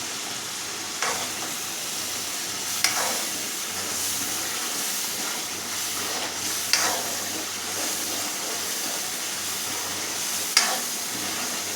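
Coriander, turmeric and chili powder fry in a pan for a potato sabji, a continuous steady hiss and sizzle with a few sharp scrapes of stirring spaced through it, close and with no talking.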